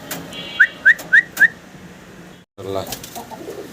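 Fancy pigeons at a market stall giving four short, evenly spaced rising coo-like calls up close, followed after a brief gap by softer mixed chatter and bird sounds.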